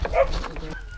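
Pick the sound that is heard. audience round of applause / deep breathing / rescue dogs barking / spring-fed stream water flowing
rescue dogs barking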